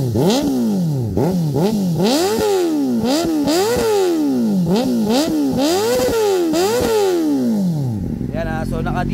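Kawasaki ZX4RR sport bike fitted with an IXIL exhaust, revved repeatedly in loud close blips that rise and fall in quick succession, each rev climbing sharply then dropping back, before settling to a rough idle at the end.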